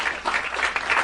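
An audience applauds at a political speech, a dense wash of clapping that stays loud and even for about a second with no voices over it.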